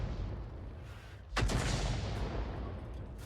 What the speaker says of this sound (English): He knows he's under heavy Arty fire.